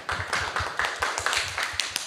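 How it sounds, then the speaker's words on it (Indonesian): An audience at a university new-student orientation claps for the faculty vice dean, a brief burst of quick, evenly spaced claps at close range. "Oke, beri tepuk tangan untuk Bapak Wadek kita"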